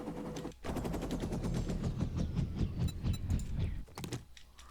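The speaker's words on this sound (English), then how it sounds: "So that's the helicopter in the game, which is nice." A helicopter in the video game 7 Days to Die gives a fast, rhythmic rotor chop that pulses steadily at moderate loudness before briefly dropping away near the end.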